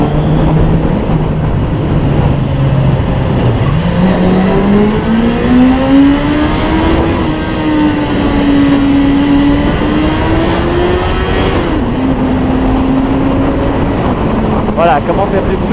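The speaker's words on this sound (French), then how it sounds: "On va descendre un tout petit peu dans les vitesses pour faire plus de bruit." A Suzuki GSX-F 600 motorcycle engine runs loud and close in a lower gear, its pitch climbing steadily as it revs, briefly dropping at a gear change and then holding a strong sustained drone.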